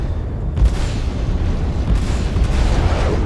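Omnisky VI laser cannons fire in the space game Star Citizen, a loud continuous stream of booming shots and rumbling impacts with several sharper bursts throughout.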